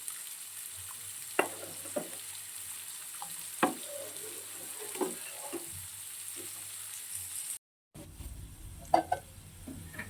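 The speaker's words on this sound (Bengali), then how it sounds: "বিনসটা অনেকটা ভাজা ভাজা হয়ে গেছে।" Beans fry in a pan with a steady soft sizzle, punctuated by occasional scrapes and taps of a stirring utensil, close and fairly quiet with a brief cut partway through.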